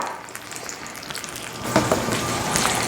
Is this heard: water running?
no